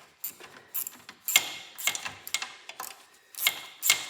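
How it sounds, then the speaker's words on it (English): A 1/4 inch ratchet clicks in quick bursts while loosening bolts on the steering of a Cub Cadet 2072 garden tractor, about a dozen close, crisp ratcheting strokes in an uneven rhythm. "on 1/4 inch ratchet, and I'm going to get in behind here, and I'm going to take all these off"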